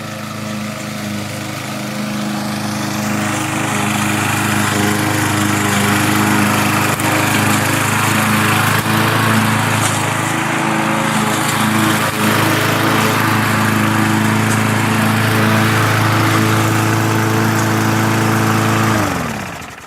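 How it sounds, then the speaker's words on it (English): A mulching lawn mower drones steadily and loudly nearby for the whole stretch, a constant mid-pitched motor hum with grassy whirring as it tears up grass, cutting off at the end. "Now this is a mulching lawnmower, so as it's going, it's basically tearing it up and throwing it out."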